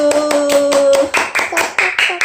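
Hand clapping at home during a child's Korean alphabet lesson, a run of sharp, close claps in a quick uneven rhythm, mixed with bright voices and cheering.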